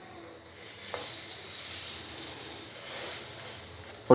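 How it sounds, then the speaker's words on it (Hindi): Bread toast frying in a pan over a medium-low flame gives a steady, close sizzle that holds throughout, with a brief scrape partway through and a sharper clatter at the very end. "मीडियम से लो फ्लेम पे हमने जो टोस्ट है वो फ्राई करना है"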